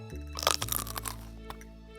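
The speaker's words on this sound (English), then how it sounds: "That was a good crunch. One more time on that." A crisp, crackly crunch of biting into a fried pepper, with a brief burst of crackling followed by a few softer crunches up close.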